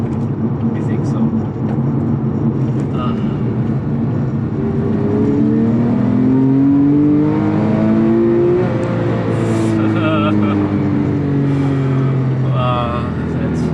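A 3.8-litre naturally aspirated Porsche 911 Carrera 997.2 on the move, its engine droning steadily with rising and falling pitch sweeps as it revs, heard from inside the car under ongoing conversation.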